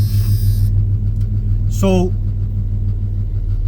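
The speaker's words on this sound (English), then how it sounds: "I got to make sure I turn my car back on" An idling car engine rumbles steadily and loudly after being restarted, a constant low hum throughout, with a brief spoken word near the middle.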